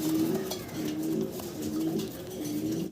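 Fancy black Mundian pigeons coo in soft, repeated rolling calls, close by and steady over a faint background, with no voices heard.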